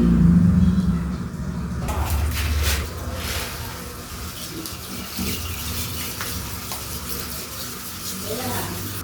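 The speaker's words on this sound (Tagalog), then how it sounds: "Sunod po ay ibubuhos na po natin ang SAA 45 Bubble Booster" A thick SAA 45 Bubble Booster pours steadily into a batch of homemade unscented dishwashing liquid, giving a continuous close watery gush with a stronger burst at the start.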